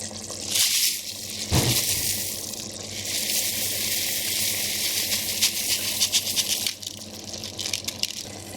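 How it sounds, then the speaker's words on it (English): Dry rice pours into a pot of chicken pulao with a bright, rushing hiss and light rattling of grains, continuing steadily for several seconds. "So just added in the rice"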